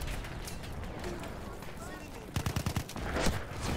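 Gunfire from the World War I shooter Battlefield 1 in online multiplayer, a quick string of sharp shots about midway, with ongoing battle noise and faint background sounds around it.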